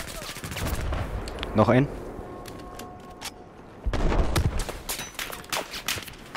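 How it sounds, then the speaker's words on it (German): Gunfire in a Battlefield 4 Conquest multiplayer match on Caspian: bursts of rapid shots and single cracks near and far, broken by a short lull, with someone speaking briefly over it. "Ich werde von irgendwo geschossen, aber von wo?"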